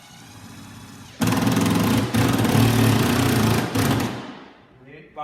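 A power drill drives a screw into steel with a loud, steady buzzing grind, pausing briefly mid-way, then winding down and stopping.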